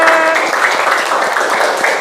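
Classroom students clap together in a dense, steady burst of applause that lasts throughout, with some voices mixed in.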